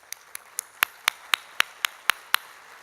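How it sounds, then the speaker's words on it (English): A single person claps slowly and faintly at the Chamber annual meeting, about ten sharp, evenly spaced claps in a quiet room. "They need applause."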